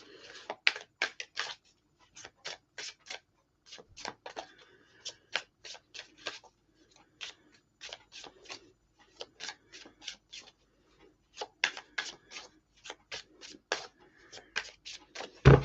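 Tarot cards being shuffled by hand, heard as quiet, close, rapid riffling clicks in irregular bursts separated by short silences.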